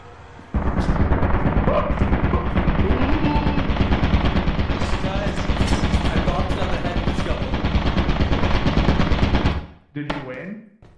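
A turret in the video game Lethal Company fires bullets in a dense, loud, rapid stream for about nine seconds, then stops suddenly, leaving a few scattered clatters.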